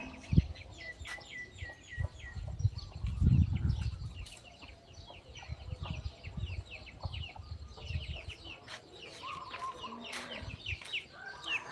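Hens cluck and chirp in short irregular bursts at moderate distance, with a soft rustle and occasional thumps in the background.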